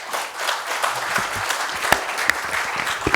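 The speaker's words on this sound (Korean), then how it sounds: "교수님을 큰 박수로 모시도록 하겠습니다." An audience at a brain science symposium applauds to welcome a neurosurgery professor, with dense, lively clapping close by and a few sharper individual claps standing out over roughly three seconds.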